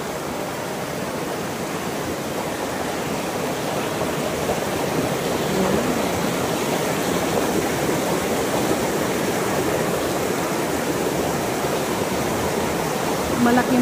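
Stream rushes near the Happy Falls campsite in the Philippines, a constant dense wash of flowing water, with a person speaking over it at times.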